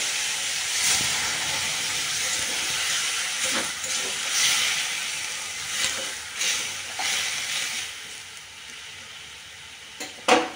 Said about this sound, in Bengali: ভাজা ভাজা হয়ে গেলে তারপর আমি জল ঢেলে দেবো। দিয়ে দিচ্ছি জল।